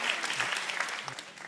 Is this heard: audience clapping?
yes